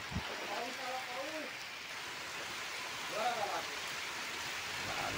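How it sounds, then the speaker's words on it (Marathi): Heavy rain pours down during a nighttime storm as a soft, steady hiss, fairly faint and continuous, with faint voices briefly rising above it. "पाऊस चालू झालाय जोराचा."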